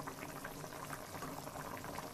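Chicken and potato curry broth boils in a pot on the stove, a quiet, steady bubbling and popping that continues without pause.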